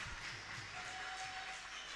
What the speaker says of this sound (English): as they get a round of applause from their fans